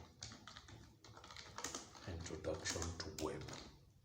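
Clicky computer keyboard typing in a quick, uneven run of keystrokes while entering web page keywords, close and moderately quiet, with a voice talking over it.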